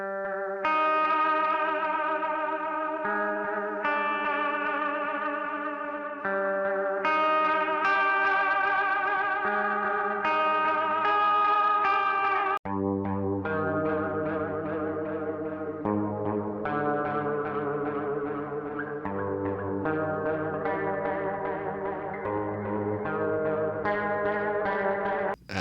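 An electric guitar lead passes through the MONOLYTH plug-in on its dead VHS preset, giving a wobbly, chorused, echoing and lightly distorted lo-fi tone as melodic notes play steadily for about twenty-five seconds with no talking.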